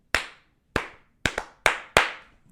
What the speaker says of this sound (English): That's actually the secret clap that starts the camera.